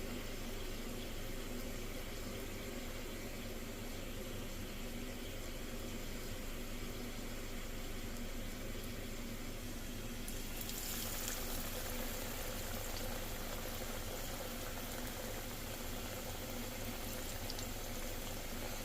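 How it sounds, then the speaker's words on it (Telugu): Vada batter deep-fries in hot oil, giving a constant close bubbling hiss that swells brighter partway through as more batter goes in, with no talking. "ఆయిల్ ఎక్కింది ఇప్పుడు ఈ మనం ఈ ముందుగా తయారు చేసి పెట్టుకుని మిశ్రమం వడలకని చేసుకుని వేసుకుందాం"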